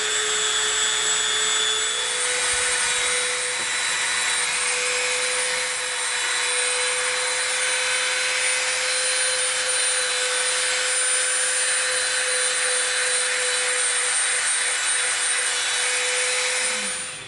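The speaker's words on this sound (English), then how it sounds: "we're gonna come in with our Dremel and we're gonna smooth a little bit of that out first." A Dremel rotary tool smoothing a seam on an EVA foam mace gives a loud, continuous high whine with a steady pitch, running unbroken throughout and close to the listener.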